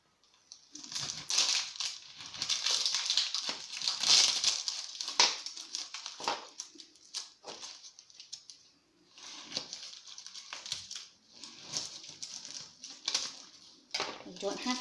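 A knife cutting an onion in half from root end, producing crunchy slicing and tapping on a board, fairly close and continuous, under a person talking.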